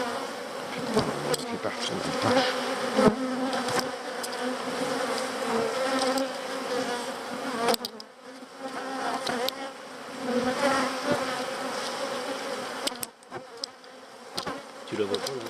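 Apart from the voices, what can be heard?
honey bees buzzing at an opened hive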